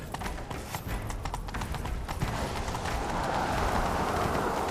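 Horse hooves clip-clop at a gallop in The Witcher 3 video game, a fast steady drumming that grows louder and merges with rushing wind and ambient game noise.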